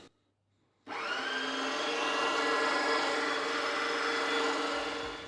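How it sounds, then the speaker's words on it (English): Brisket and short rib run through an electric meat grinder: the motor starts abruptly and then holds a steady, loud, close whirring drone with a constant mechanical whine. "Let's grind up these meats."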